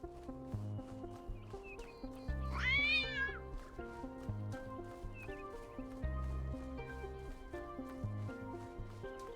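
A cat meows once, a short rising-falling call in The Talos Principle II, set over a looping rhythmic electronic music track.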